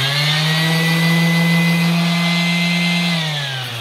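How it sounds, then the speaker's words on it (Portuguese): A Bosch GEX 125-150 AVE random orbital sander runs alone with a loud, steady whine and hum close by, holding an even pitch before slowing slightly at the end. "Essa aqui é uma lixadeira modelo GEX 125 150 AVE da Bosch, é uma lixadeira muito boa."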